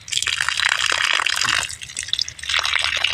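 Water poured from a container onto vegetable plants in a garden, with close splashing and trickling in two bursts separated by a short lull.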